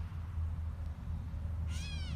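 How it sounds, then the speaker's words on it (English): A gray catbird gives a single cat-like mew near the end, a short descending nasal call over steady low outdoor rumble, with no talking. "That's not a cat. It's a cat bird."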